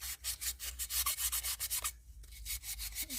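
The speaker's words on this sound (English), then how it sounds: "trying to sand that down" A marbleized incense burner tray is sanded by hand in rapid, even back-and-forth strokes that give a close, gritty rasping rhythm, pausing briefly midway, with no speech.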